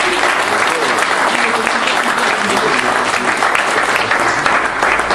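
Dense, steady applause from an outdoor crowd at a hare-hunting dog pack competition's prize-giving, continuous clapping throughout with no pause.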